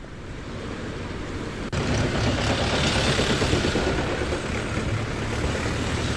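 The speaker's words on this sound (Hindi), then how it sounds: "जोंधरा पदर पुल में पानी सड़क से कुछ फीट नीचे बह रहा है।" A swollen river rushes beneath the Jondhra Padar bridge in Chhattisgarh after heavy rain, flowing a few feet below the road in a loud, steady roar that swells slightly partway through, with no voices heard.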